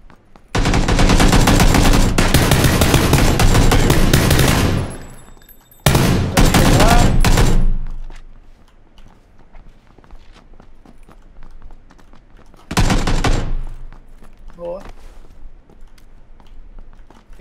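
Rapid bursts of video game gunfire crackle loudly in two long volleys, then a short burst later, with quieter footsteps and faint game sounds between them.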